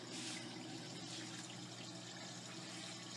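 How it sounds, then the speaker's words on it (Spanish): A washing machine drains water during a test cycle, giving a faint, continuous rushing and gurgling flow that holds steady throughout with no voices. "Está botando todo el agua."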